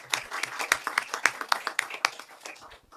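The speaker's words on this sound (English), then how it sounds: "give a round of applause to our panelists one more time" Audience applause for the panelists at a regional dialogue on ocean-based climate action in Bangkok, a modest room of people clapping in distinct, fairly close claps that thin out and fade near the end.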